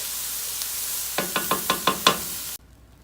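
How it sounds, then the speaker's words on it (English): Onions and mushrooms sizzling in a pan, a steady close fry with about six rhythmic knocks of stirring before the sound cuts off abruptly. "onions and mushrooms are starting to cook down"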